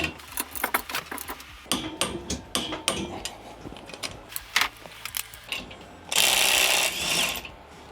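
A Procraft ID20A impact driver unscrews at 200 Nm in rapid hammering bursts, then runs freely with a sustained bright whir near the end, close and loud.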